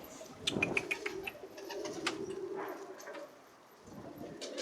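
Several pigeons coo in low, rolling murmurs close by, mixed with scattered taps and clicks of pecking, easing into a brief quieter stretch before resuming.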